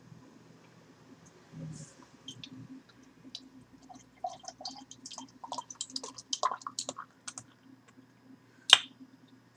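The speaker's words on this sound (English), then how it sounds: "I kind of had to give it an aggressive pour." Der Hirschbrau Doppel-Hirsch dark lager is poured aggressively, with quiet clicks, drips and fizzing splashes building irregularly before a sharp final clink.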